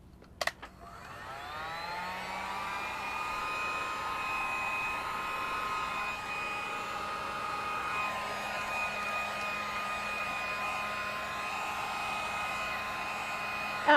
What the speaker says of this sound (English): I am going to pull out the heat gun.